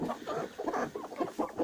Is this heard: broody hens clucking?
yes